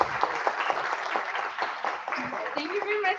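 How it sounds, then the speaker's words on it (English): Lecture audience gives scattered clapping for visiting French exchange students, light uneven hand claps mixed with voices talking over them. "You can clap for them because they were very good."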